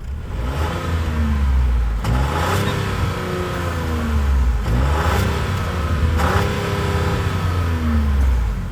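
A 2025 Chevy Trax Activ's 1.2-liter turbo three-cylinder engine revs up repeatedly, several loud throttle blips rising and falling in pitch over a steady idle, close by with no talking.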